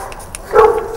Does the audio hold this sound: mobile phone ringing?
no